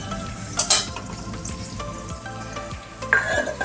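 Tomatoes fry in hot oil in a pan over a high gas flame for a Bengali hilsa fish curry with potato and aubergine, giving a steady loud sizzle with a few brief clinks and stirring scrapes.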